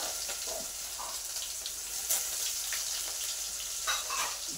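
Mustard seeds and onion sizzling and crackling in hot oil in a pan, a steady bright fry with scattered pops and spatters, close and clear with no talk.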